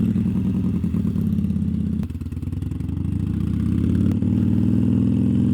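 Harley-Davidson Iron 883 motorcycle ridden up close, its engine loud and continuous, dipping briefly between gears and then climbing steadily in pitch as it accelerates.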